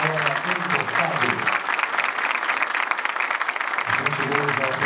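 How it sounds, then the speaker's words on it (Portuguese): A large crowd at a formal swearing-in ceremony applauds steadily and loudly, sustained clapping filling the room, with a voice speaking briefly at the start and again near the end. "nossos aplausos ao presidente do BDMG, ora empossado"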